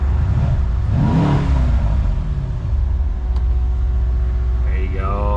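A Bentley's 12-cylinder engine revs in an underground car park, a deep rumble swelling into a rising rev near the start, then easing back to a steady low drone with a voice faintly over it.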